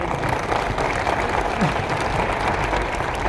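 Applause for a woman leader at a large national-stage business gathering in Bhilwara, a dense, steady wash of clapping from a big crowd that fills the whole stretch at an even loudness.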